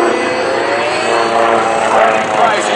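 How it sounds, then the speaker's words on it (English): Sukhoi Su-29 aerobatic plane with a 360 horsepower Russian engine, a loud propeller roar sustained while the aircraft climbs at an air show, with an announcer talking over it. "Randy Price using all 360 horsepower of that Russian engine to pull straight up in the sky."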